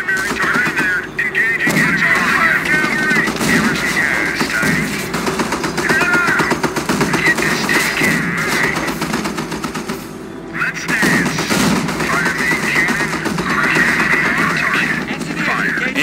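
Steady machine-gun chatter and rifle gunfire on a Company of Heroes battlefield at Montebourg, with dense, continuous bursts of automatic fire and scattered shots, loud and close under brief radio-style unit voices.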